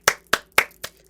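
Four sharp hand claps land close by at an even, quick pace beside a slightly wobbly table holding a stand-up tripod, each crack decaying fast into a quiet room.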